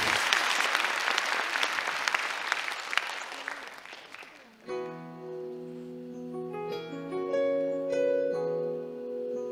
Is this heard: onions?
no